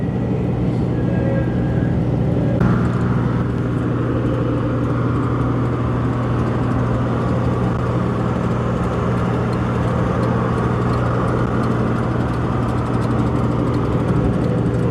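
A car cruising along Highway 24 outside Nashville, with a steady loud engine and road drone plus constant wind and tire noise, and a brief shift in tone early on.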